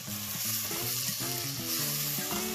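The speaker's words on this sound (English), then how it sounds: "Give it a stir." Steady sizzle of turmeric, coriander-cumin powder and red chili powder being stirred in a hot pan for Punjabi pakoda kadhi, a continuous frying hiss under background music with no talking.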